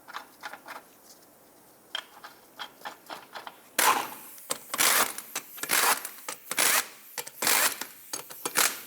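Lug nuts are tightened on the rear wheel of a 2007-2010 Chrysler Sebring, producing a series of sharp mechanical clicks and ratcheting bursts. They are lighter at first, then louder and denser halfway through, with no talking.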